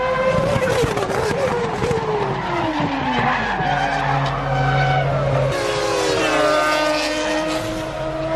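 A race car skids off the track in a crash, with loud tyre squeal sliding in pitch, engine roar and a commentator talking over the continuous noise.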